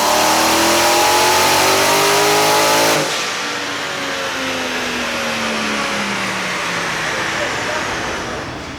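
A supercharged Camaro ZL1 engine with ported blower, cam and stock mufflers revs loudly with a rising whine, then the revs fall away into a lower steady drone as it settles back.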